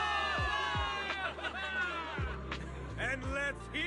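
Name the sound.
crowd of soldiers cheering victory in Zenless Zone Zero video game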